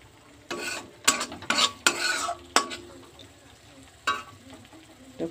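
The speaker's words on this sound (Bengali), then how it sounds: "আমার মশলাটা কষানো হয়ে গেছে, আমি অল্প তেল দিয়ে রান্নাটা করছি" Masala frying in a little oil for matar paneer, a spoon scraping and clinking against the pan in quick bursts over a soft sizzle, close and without talk.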